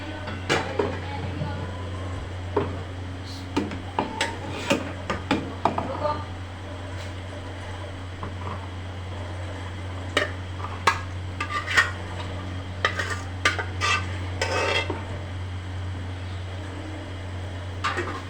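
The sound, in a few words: mashing meat into haleem with a ghotna masher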